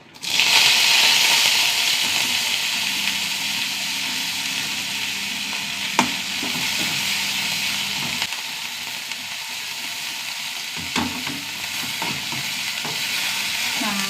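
Washed dried prawns fry in coconut oil for a chutney, a steady crackling sizzle of moderate loudness with occasional sharp clinks from stirring across the whole stretch.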